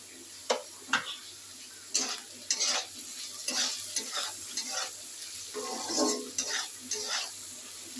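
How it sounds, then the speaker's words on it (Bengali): Potatoes seasoned with turmeric and salt fry in a pan, a low background sizzle broken by intermittent spatula scrapes and clinks against the pan, close by and with no talking. "আলুটা এবার আমি লাল লাল করে ভেজে নেব"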